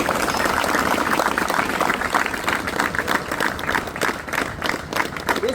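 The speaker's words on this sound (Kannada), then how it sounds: "ಅವ್ರಿಗೆ ಜೋರಾದ ಚಪ್ಪಾಳೆ ಬರಲಿ." An audience of students claps loudly for a visiting BSF soldier, a dense burst of applause that thins into scattered claps toward the end, with no talking.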